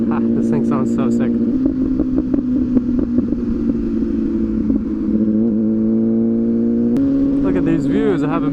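MV Agusta SV 1000 Oro motorcycle engine running steadily while riding, a loud continuous drone with shifting pitch and a revving rise near the end, with voices talking over it throughout.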